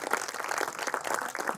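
An audience at a school celebration claps steadily for its teachers, a dense, even patter of many hands throughout, heard from within the crowd.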